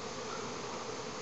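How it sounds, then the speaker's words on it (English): A swarm of honey bees on orientation flights produces a steady, dense buzzing hum that fills the air outdoors, constant and fairly faint. "within a half hour they start swarming like this"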